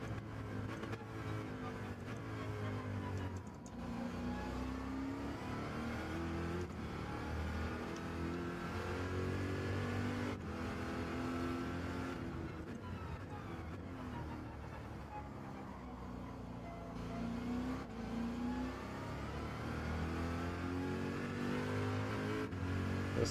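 A Toyota Supra races around the Daytona road course in Gran Turismo 7, its engine revving up and down through repeated climbing and falling pitch sweeps with brief dips between gear changes, steady and unaccompanied by talk.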